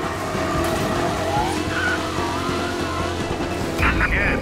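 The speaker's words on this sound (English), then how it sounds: "we got a race car driving at speed" Race car tearing along at speed in the video game Mafia Definitive Edition, a steady loud engine roar with tire squeals and skids, a siren faintly in the mix and some voices over it.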